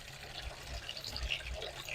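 Hot water pours into a plastic box, a steady splashing fill with gurgles and bubbles, close and fairly quiet, with no talk over it.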